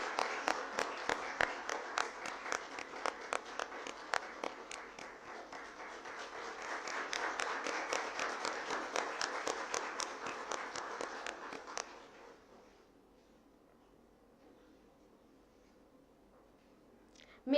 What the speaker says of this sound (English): Ladies and gentlemen, let's give a big round of applause for this beautiful creation.